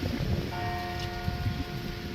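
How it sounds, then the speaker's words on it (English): Church bells ring at Cardinham church, sustained ringing tones entering after a brief moment and carrying on steadily over a low rumbling background, with no talking. "we got the bells just in time"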